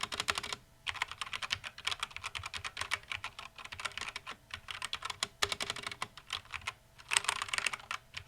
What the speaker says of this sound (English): let's go ahead and hear how these keys sound